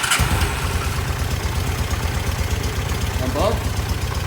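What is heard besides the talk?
single carb 750 motorcycle engine idling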